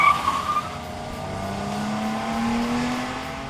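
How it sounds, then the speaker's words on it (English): A 2016 Nissan Maxima engine howls under hard acceleration, a rising, sustained engine note climbing steadily in pitch as the car pulls, fairly loud and heard alone without talk. "one that operates with an eager howl when the pedal hits the carpet"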